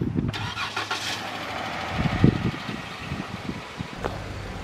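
A car engine cranks and turns over close by, settling into a rough running rumble with a few revs, no talking over it.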